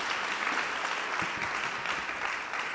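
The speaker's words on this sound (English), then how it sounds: "a big round of applause to the Bahamas." A crowd applauds at a youth session honoring the Bahamas as host, a steady, dense wash of many hands clapping continuously throughout at an even loudness.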